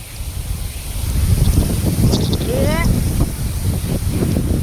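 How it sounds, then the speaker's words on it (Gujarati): Strong wind roars and buffets the microphone in low, rumbling gusts, with a brief rising whistle partway through. "આ ફોન હાથમાં પડે જાય એવું પવન"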